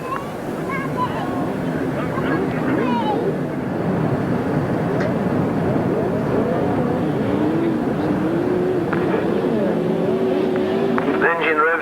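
Several grasstrack racing bikes rev at the start line in 1993, a dense, sustained engine roar with rising and wavering pitches, while a commentator talks over it.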